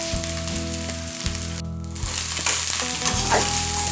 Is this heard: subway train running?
no